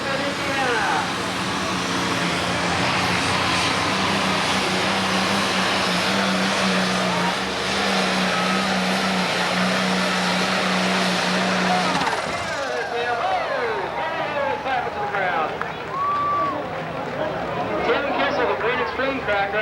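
The Green Extreme Tractor, a 10,000 lb Pro Stock pulling tractor out of Richmond, Indiana, roars with a steady, loud engine drone at a tractor pull in Evansville, then cuts off into a rougher, fluttering tail under crowd noise.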